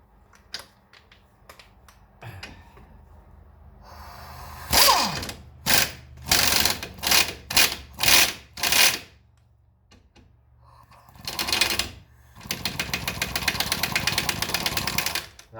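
An impact wrench works on 19 mm bolts during front strut removal on a 2011 Kia Optima, firing in several short loud hammering bursts separated by pauses, then a longer sustained run at the end, close by in a quiet garage.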